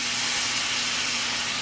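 Steady, loud hiss of water steaming in a hot pan under a lid while cheesy pesto chicken cooks, an unbroken sizzle throughout.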